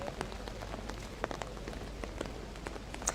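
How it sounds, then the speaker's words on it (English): Hard rain falls outside Buckingham Palace along the Mall, a steady dense patter of drops hitting surfaces, moderately quiet and continuous, with a few sharper splashes. "It is raining hard."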